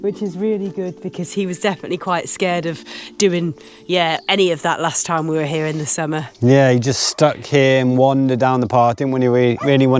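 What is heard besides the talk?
No everyday noises stand out.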